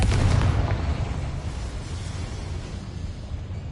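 The Confringo explosion spell in Hogwarts Legacy goes off as a heavy boom, a loud low blast at the start that fades into a rumbling tail.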